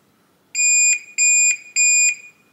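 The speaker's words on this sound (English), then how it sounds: "And once you hear 3 long beeps, the reset is complete." A Reliabilt electronic deadbolt emits three long, steady electronic beeps in an even rhythm after being reset, loud and close against a quiet background.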